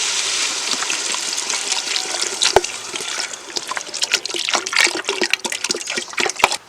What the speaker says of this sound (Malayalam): ഇനി നമുക്ക് നമ്മുടെ റൈസിന് ആവശ്യമുള്ള വെള്ളം ഒഴിക്കും.